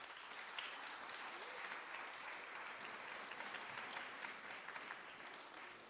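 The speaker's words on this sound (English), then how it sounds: "Ladies and gentlemen, give a round of applause." A crowd at a dyslexia awards ceremony applauds finalists, a dense, even wash of clapping that is quiet and distant, holding steady for several seconds with no distinct individual claps.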